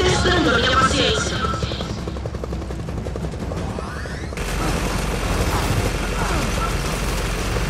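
Enemy helicopter in Gears of War 4 roars with a steady, loud rotor and turbine drone, mixed with gunfire bursts and crashes, while voices talk over the din.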